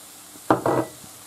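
Sugar tipped into a pan of slowly confiting onions, two short grainy bursts of pouring and sizzling close by, followed by a faint low stir.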